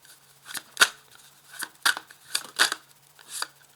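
Tarot cards being shuffled and drawn, giving a series of crisp, close snaps and flicks in irregular bursts against a quiet background.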